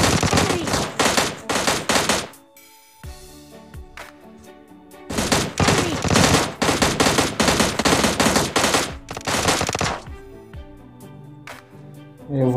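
M16 machine gun fire in a shooter video game, loud rapid bursts of automatic shots in long strings broken by short pauses, close and dominant, with no voices.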